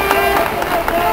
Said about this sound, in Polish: Wielkie brawa dla trenera